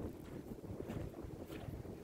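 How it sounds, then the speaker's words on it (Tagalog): Strong wind buffets the microphone on a reef beach with soft sand, a steady roaring rumble of gusts and low noise throughout with no talking. "So, napakalakas ng hangin mga kabooms."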